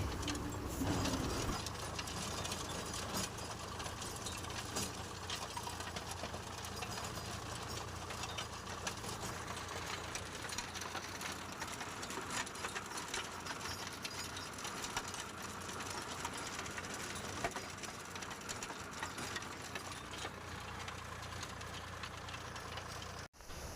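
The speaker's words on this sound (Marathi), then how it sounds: "आपण रोटर चालू करूया" Tractor-driven rotavator running in a field prepared for dragon fruit planting; a low, steady engine drone continues throughout at moderate distance, with faint birds in the background and no talk.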